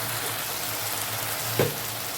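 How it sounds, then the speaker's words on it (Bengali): Spice masala sautés in a pan with a soft, continuous frying hiss at low volume, broken by one brief clink of a spoon. "আমাদের অনেকক্ষণ কষাতে হবে এটা, যতক্ষণ না মশলার থেকে ভাজা ভাজা একটা সুন্দর গন্ধ আছে ততক্ষণ অবধি কষাতে হবে।"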